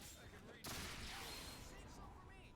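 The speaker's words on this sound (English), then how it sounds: "shoot this drum cannon" Drum cannon firing in the video game Resonance of Fate: a sudden loud burst of game gunfire that breaks in mid-clip and rolls on as a sustained barrage, with dense crackling impacts to the end.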